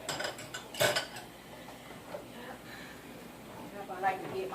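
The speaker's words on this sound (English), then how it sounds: "I like to get my dishes washed up" Dishes and cutlery clink and clatter while being washed up, with a sharp clatter early on and softer scraping and clinks afterward under running background noise.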